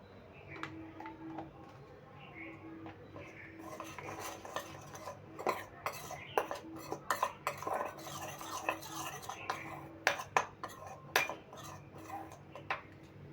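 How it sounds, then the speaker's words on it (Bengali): Batter for a vegetarian chilli soyabean being mixed with a spoon as water is added little by little, giving close, irregular scraping and clinking against the bowl over a soft background hum. "এবার অল্প অল্প জল দিয়ে আমি ব্যাটারটা রেডি করে নিচ্ছি"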